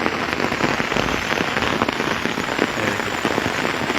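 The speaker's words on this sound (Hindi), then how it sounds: "ये देखिए मोटी मोटी बारिश जो है यहाँ पर हो रही है।" Heavy rain pours steadily onto a road in Shimla, a dense, loud hiss of countless drops striking the surface without pause.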